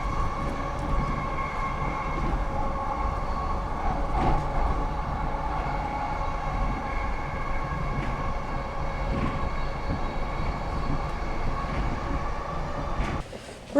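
Steady rumble and rolling rail noise inside a moving train carriage, continuous throughout with faint clicks, ending in a short jolt.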